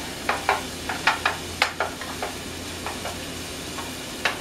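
Ingredients browning in a pan for stroganoff sizzle close by, with a series of sharp stirring scrapes and taps on the pan coming in a loose rhythm.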